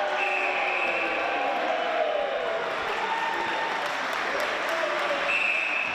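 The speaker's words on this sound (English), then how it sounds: "Crowd getting involved in this game." A crowd at the SATIS netball state final between St Patrick's and Guilford Young cheers and applauds in a continuous loud roar filling the hall, with faint whistle-like tones and a voice talking over it.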